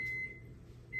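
Two short electronic beeps, one at the start and one at the end, steady high tones over a low background hum.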